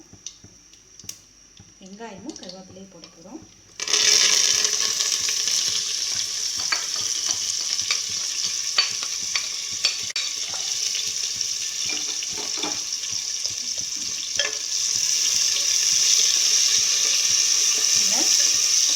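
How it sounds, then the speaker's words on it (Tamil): Onions and curry leaves dropped into a pan of crackled cumin for a roasted brinjal subji, giving a sudden loud hiss that settles into a continuous close sizzle with occasional stirring clicks, a voice speaking briefly beforehand. "இப்போ நம்ம வெங்காயமும் கருவேப்பிலையும் போட போகிறோம்."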